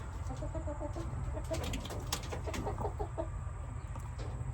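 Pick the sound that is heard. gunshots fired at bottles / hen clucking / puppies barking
hen clucking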